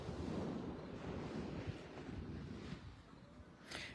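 Ocean waves washing ashore under strong gusts of wind rumbling across the microphone, a continuous outdoor roar with no clear pauses.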